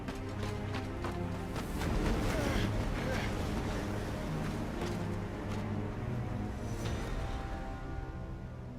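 Gusting wind sweeps steadily through a Final Fantasy XVI game scene, a continuous broadband rush under layered music and ambience with a few soft thuds.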